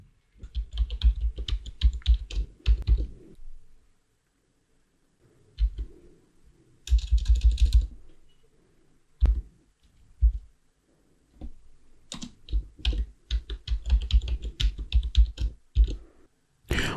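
Keys clatter on a computer keyboard as a password is entered during server setup, close and crisp in quick bursts of typing separated by short silences.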